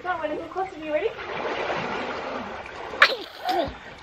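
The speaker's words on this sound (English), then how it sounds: "Mommy's swimming in the water." A woman swimming sends up soft, continuous water splashing and sloshing in a backyard swimming pool, fairly close, with a sharper splash near the end and a voice heard over it.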